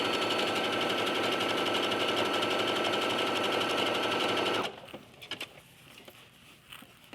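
A sewing machine stitches close to the edge of a knit flounce in a loud, steady, fast whir for about four and a half seconds. It then stops abruptly, leaving faint handling sounds.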